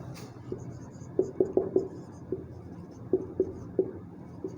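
Chalk or marker strokes on a board during a geography lecture on North American mountains: a series of short, faint taps and scratches in quick groups with brief pauses between them, no speech over them.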